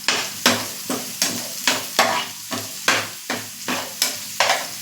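Spatula repeatedly scraping and stirring a besan bhurji mixture of gram flour, onion and coriander in a frying pan, about ten rhythmic strokes close up over a faint sizzle, no voices.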